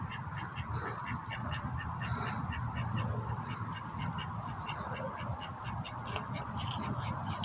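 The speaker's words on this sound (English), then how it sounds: "What are you up to, ducks?" Ducks at a downtown spot in the evening quacking in a loose, repeated series of calls close by, over steady background noise.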